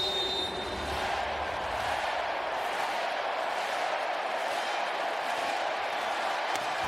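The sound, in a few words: volleyball arena crowd responding to a play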